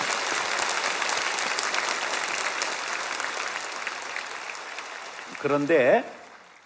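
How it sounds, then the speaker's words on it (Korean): A church congregation claps in thanks during a special dawn revival service, broad steady applause that thins gradually before a voice speaks briefly near the end. "우리를 높여주신 하나님께 감사와 영광의 박수를 올리겠습니다."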